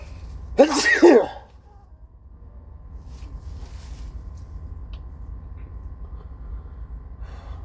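One loud, explosive sneeze close to the microphone, followed by a low steady rumble of background noise.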